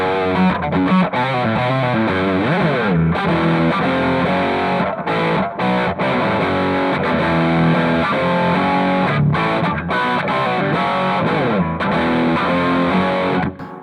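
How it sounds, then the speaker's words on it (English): Overdriven electric guitar riff played through a Devilcat Jimmy amp with saturated overdrive engaged, a continuous loud distorted run of chords and single notes with brief gaps, no talking. "I'm going to show you what it sounds like with the overdrive on"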